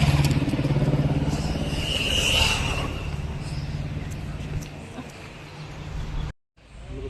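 A scooter engine hums steadily while riding near the Ganga ghats in Kolkata, with wind and traffic noise mixed in, before cutting out briefly near the end.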